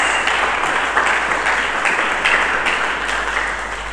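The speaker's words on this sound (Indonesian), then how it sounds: "Mari kita berikan tepuk tangan bagi Yesus." Church congregation gives sustained, even applause that fills the room for the whole stretch, easing slightly toward the end.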